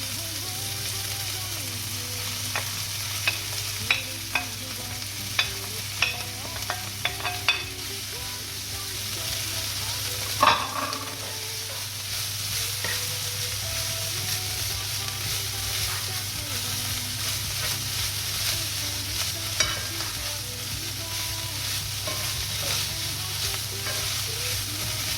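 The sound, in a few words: tuna cooking in a pan for stuffed courgettes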